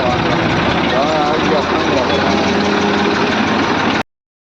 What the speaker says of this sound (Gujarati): જો આ અમારું ટ્રેક્ટર છે